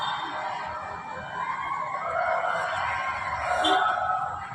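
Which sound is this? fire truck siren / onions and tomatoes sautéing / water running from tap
fire truck siren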